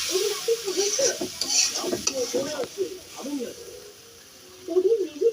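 Masala for a meat curry is sautéed in a pan, with scraping stirs and a sizzle running under a person talking. A short quieter pause comes before the stirring picks up again.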